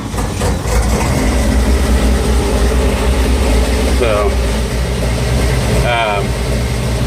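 A 1956 International S160 farm truck engine idles steadily close by in a continuous low rumble, with a brief spoken word and some background noise over it.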